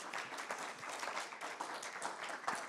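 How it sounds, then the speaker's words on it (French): An audience at a climate conference on business decarbonisation applauds, steady overlapping clapping across the whole stretch at moderate, even loudness, with no voices over it. "un petit temps d'applaudissement?"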